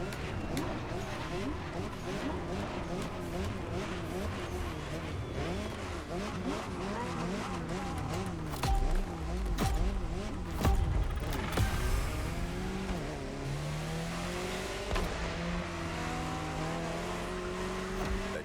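In The Crew Motorfest racing game, a Jaguar CX-75 concept car races with a roaring, shifting engine note and brief tire squeals, while a voice talks over it.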